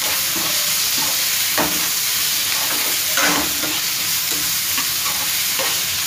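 Curry leaves and tomatoes are sautéed in a pan, giving a continuous hissing sizzle with intermittent scraping stirs from a utensil, close and steady throughout.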